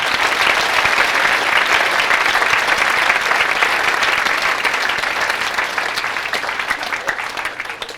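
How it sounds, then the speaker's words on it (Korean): Loud, sustained applause from a large crowd at a university freshman orientation, dense clapping that holds steady for several seconds and eases slightly toward the end. "지금 나와서 인사하신 분들께 힘차게 다시 한번 박수 부탁드립니다."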